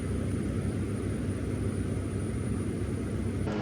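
An old Alaska bush seaplane's propeller engine drones loud and steady in flight, a constant heavy rumble heard from inside the cabin with no voices.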